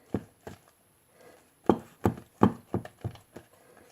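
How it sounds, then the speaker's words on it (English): A spoon stirs and scrapes through soft chocolate ice cream in a container, a series of distinct close knocks and scrapes in an uneven rhythm with no talking. "it's pretty soft, so I'm going to stir it around"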